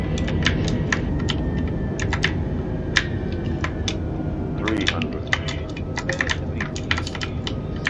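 Rapid clicking of a computer keyboard during a flight simulator session, steady irregular keystrokes close up over a constant broadband hum, with no talking.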